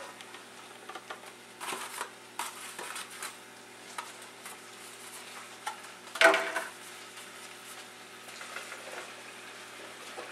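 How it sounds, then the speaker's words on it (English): Fresh sliced mushrooms drop into heated vegetable oil in a large saucepan and crackle loudly, then fade to a steady sizzle broken by bursts of stirring and pan scrapes, with a sharp clatter midway. "Now that our 2 tablespoons of vegetable oil have heated up, add in 1 pound of fresh mushrooms."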